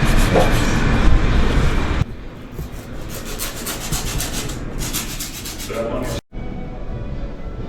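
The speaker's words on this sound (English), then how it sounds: "now we are just buffing and shaping the nails to apply the acrylic" Acrylic fingernails are buffed and shaped with a file, giving continuous scratchy rubbing strokes up close, loud at first and then softer, ending in a brief pause.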